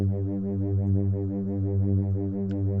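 A sustained synth pad preset called breathing holds one rich, low chord that swells and fades in a slow, even pulse, steady and alone.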